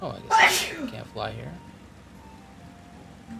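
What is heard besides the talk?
sneeze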